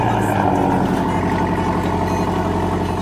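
A 2019 Porsche Boxster 718 convertible with sports chrono package idles with a steady, throaty rumble continuously at close range, with no talking over it.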